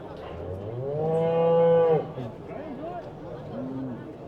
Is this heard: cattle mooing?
yes